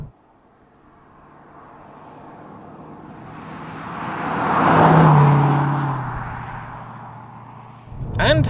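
A 2005 Mercedes C55 AMG wagon with a V8 engine drives along, its engine note swelling to a loud peak mid-clip and then easing back, as if passing or accelerating; a voice begins at the very end.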